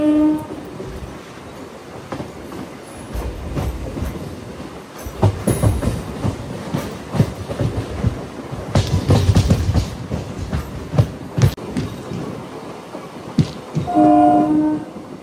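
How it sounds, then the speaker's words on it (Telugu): A MEMU passenger train on the Rajahmundry to Bhimavaram line, between Nidadavolu and Kaldari, runs with a steady rumble and rhythmic wheel clatter that swells in the middle, with horn-like tones near the start and again at the end. "తర్వాత మన ట్రైన్ వెళ్ళేది తణుకుకి"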